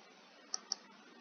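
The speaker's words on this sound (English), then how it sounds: "You click on the camera, you click on this shoe, and you open." Two quick, faint computer mouse clicks on a laptop, about a fifth of a second apart, over a quiet background hiss.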